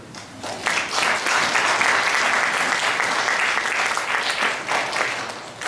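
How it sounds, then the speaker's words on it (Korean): A roomful of about a hundred people at a Korean medicine school information session clap together, steady and dense for several seconds after a brief quieter start. "끝까지 남아있은 분들 우리 서로한테 격려하는 박수 한번 칩시다."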